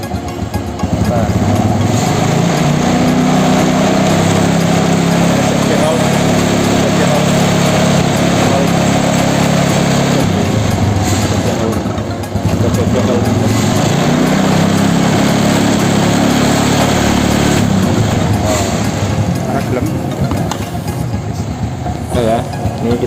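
A Supra motorcycle engine with conventional points ignition runs steadily at raised revs during a tune-up, a loud, continuous close drone with a constant pitch that barely changes throughout.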